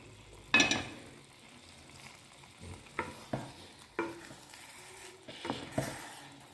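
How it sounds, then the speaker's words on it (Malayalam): Spoon stirring prawn rice with egg in a hot pan, soft sizzling under irregular scraping and clinking strokes, close and fairly quiet. "ഇനി ഇത് നമ്മുടെ ചോറിലേക്ക് ഇട്ട് കൊടുത്തിട്ട് മിക്സ് ചെയ്തെടുക്കാം"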